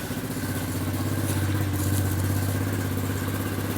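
A 125cc dirt bike engine, freshly fitted with a new carburetor, gasket and filter after years of sitting, runs steadily and loudly at a fast idle with a rapid, even putter throughout.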